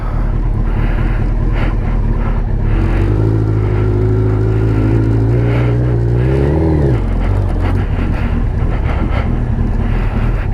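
Suzuki Hayabusa motorcycle cruising down a road at night: steady loud engine drone with a rising rev swell in the middle, then dropping back, under continuous wind rush.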